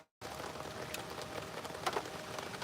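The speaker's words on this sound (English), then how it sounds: "Can you guys hear that rain on the camera?" Steady outdoor rain hisses across the whole stretch after a brief silent start, with scattered drops pattering on a camera and roof, no voices.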